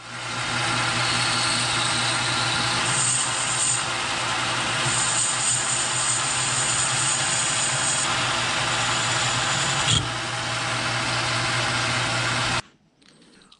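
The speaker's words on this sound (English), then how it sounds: "I will come back and face off the end here of the larger bushing, chamfer the edges, deburr it, and cut it off to a half inch" A metal lathe runs steadily while facing the end of a bushing and cutting it off to length for a Bridgeport mill power drawbar guide shaft, a constant droning whine that stops abruptly near the end.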